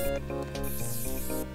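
Bee spray spraying in a Roblox game, a short continuous hiss with squishy, dripping texture, close and alone.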